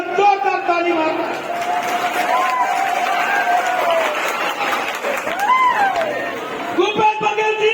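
A crowd at a World Tribal Day gathering in Mungeli claps loudly and continuously, with cheering and shouting rising above the dense applause.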